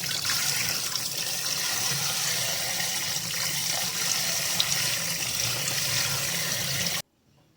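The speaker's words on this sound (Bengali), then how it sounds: "তো ভালো করে ধুয়ে টুয়ে নিচ্ছি মাছটাকে।" Fresh rohu fish pieces are washed under running tap water: a loud, steady gush splashes into a sink for several seconds, then cuts off abruptly.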